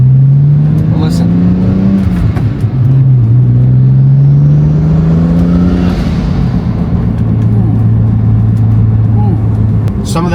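A used all-wheel-drive BMW with 165,000 miles that burns oil runs loud and close, its engine rising and falling through several steady revs with a smooth, continuous drone.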